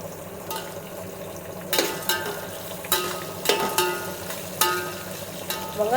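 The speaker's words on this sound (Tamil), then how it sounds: "வெங்காயம் நல்லா வதங்கி ப்ரௌன் கலரில் வரணும்." Four medium onions, thinly sliced lengthwise, fry in a pan as a base for half a kilo of chicken biryani. A steady close sizzle runs throughout, broken by a few sharp scraping stirs against the pan.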